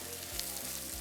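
Onions frying in oil in a pan for a Jaffna-style drumstick curry, a steady close sizzle with soft crackles throughout, no talk.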